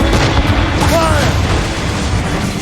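A ship fires a cannon broadside in the Assassin's Creed Rogue video game, with heavy, loud booming blasts merging into a dense low roar and shouted voices in the mix.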